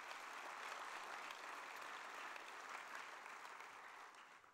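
Audience at the official closing of a congress clapping for its speakers, panellists and moderators: steady, even applause from a large crowd, heard faintly and distantly, tapering slightly at the end.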